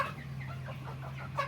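Tiger chickens cluck in a run of soft, close calls over a steady low hum at a poultry farm in Bakshiganj, Jamalpur.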